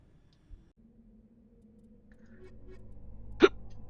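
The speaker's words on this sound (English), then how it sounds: "Why do I have hiccups?" A single short, sharp hiccup pops out near the end over faint, low background sound from the game Mass Effect 1 Legendary Edition, preceded by a soft little click.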